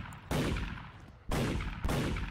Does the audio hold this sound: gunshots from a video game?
yes